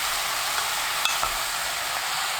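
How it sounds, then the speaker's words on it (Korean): Beef, radish and onion stir-fry over high heat in a steady, loud sizzle, with a few light clicks of stirring and no speech. "소고기가 반쯤 익으면 무, 양파 넣고 1분 30초 볶아주세요."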